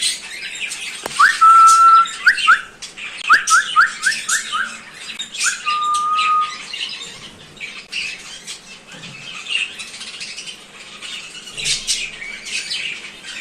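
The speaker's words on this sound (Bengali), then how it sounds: "তো এদিকে কোকাটেল গুলো আছে।" Cockatiels squawk and whistle in an aviary, with loud shrill calls and a few sustained whistled notes bunched in the first seconds, then softer chirps and chatter continuing in the background.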